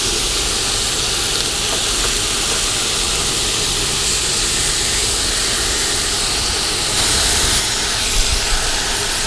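Pork chops sizzle on a NuWave induction cooktop, a steady close hiss and crackle running unbroken throughout with a few small pops near the end.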